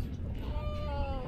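A white cat meows in a high, drawn-out tone near the end, with a steady low room rumble and people around it.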